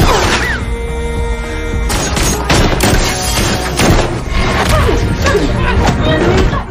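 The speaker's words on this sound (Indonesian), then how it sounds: "untuk mencari keberadaan Eva, hingga terjadilah baku tembak jarak dekat antara mereka berdua" A close-range gunfight in an action film plays out as a loud, dense run of gunshots, crashes and thuds over a sustained musical score.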